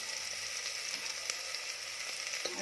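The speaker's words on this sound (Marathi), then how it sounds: "तेल छान गरम झालं की त्यामध्ये बारीक चिरलेला कांदा घालायचा आहे कांदा छान परतवून घ्यायचा आहे" Finely chopped onion fries in hot oil for Kolhapuri mutton rassa, a steady close sizzle with faint stirring taps and no talking.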